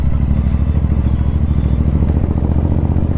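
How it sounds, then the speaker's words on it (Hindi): A motorcycle rides along a narrow two-way mountain road in strong wind, its engine a steady close low rumble with some clatter throughout, no talking. "तो यहाँ पे थोड़ी ध्यान से और संभल के बाइक चलानी पड़ेगी"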